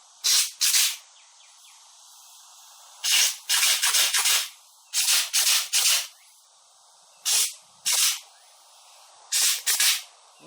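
Air-powered grease gun pumping grease through a long, worn hose, heard as short bursts of sharp pneumatic spraying hiss in irregular pairs and clusters, alone and fairly close, with quiet pauses between bursts.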